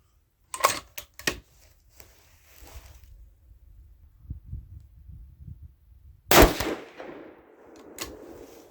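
Rifle fire from a 6mm ARC loaded with Hornady 65-grain V-MAX: a few close, sharp shots early in quick succession, a lull with low rumble, then a louder, booming report with a trailing echo and one more crack afterward.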